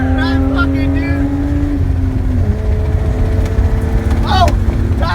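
A BMW E36 drift car engine revs hard in third gear, a loud, close, rising and falling roar with sharp pitch sweeps, while people shout excitedly over it.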